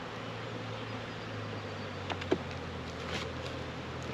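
Bees swarm and hum around an open beehive during a cold spring hive split, a steady soft drone with a few brief louder passes of individual bees close by, no voices.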